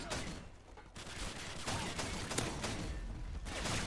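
Shotgun fire in Modern Warfare 2 rings out in fast, loud overlapping blasts, a near-continuous barrage over busy game noise with no voices.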